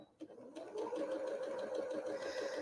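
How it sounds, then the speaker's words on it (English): A sewing machine runs steadily, stitching a quarter-inch seam through quilt block pieces, with a continuous mechanical whir that starts after a brief pause near the beginning. "we're going to sew a 1/4 inch seam there"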